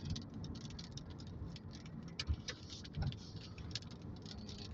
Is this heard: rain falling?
yes